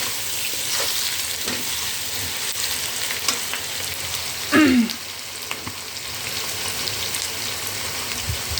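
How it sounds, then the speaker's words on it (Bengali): Onions fry in a pan for a chicken curry, a steady close sizzle running throughout, with a brief louder stir or scrape in the middle. "পেঁয়াজটা একটু লাল লাল করে ভেজে নেব"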